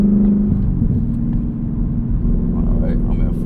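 A manual-transmission car's engine revs and drones loudly while downshifting to third gear to merge onto a highway, a steady close rumble with a short rise at the rev-match.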